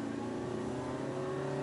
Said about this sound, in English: Alright, it accelerates, but it's loud.